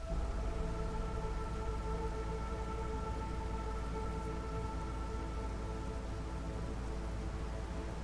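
Storm rain in the Against the Storm video game: a steady, heavy downpour hissing evenly throughout, with a low rumble underneath and sustained tonal hums layered on top, no voices.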